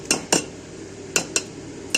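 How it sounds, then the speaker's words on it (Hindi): A blender jar holding ground paneer curry paste is set down and handled in a home kitchen, giving five sharp hard knocks and clinks in uneven pairs, close and fairly loud with no talk. "अब यहीं पर ही मैं इस ब्लेंडर को रखती हूँ"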